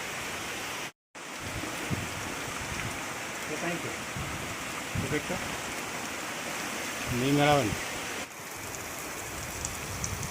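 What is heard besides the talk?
rain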